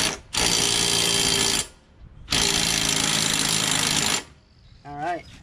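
Yard Machines MTD push lawnmower engine starting, with two loud bursts of steady roaring engine noise separated by a short pause, ending briefly.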